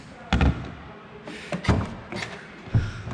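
A carbon-fibre butterfly door on a Ford GT40 is worked open, giving three or four close, dull thumps and clunks spaced apart, with quiet gaps between them.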